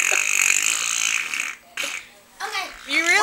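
Kids imitate farts with their mouths, blowing a series of wet, buzzing raspberry noises up close, broken by short pauses and bits of childish vocal sounds.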